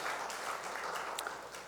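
A church congregation at a Sunday worship service gives a short burst of applause, a soft, dense patter of many hands that stays fairly faint and even.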